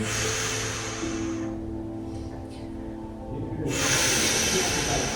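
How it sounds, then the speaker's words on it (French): Loud close breaths during a floor stretch: a long hissing exhale, a quieter pause, then another strong airy breath, over a low steady background hum. "Inspire, expire."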